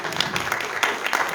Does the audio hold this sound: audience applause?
yes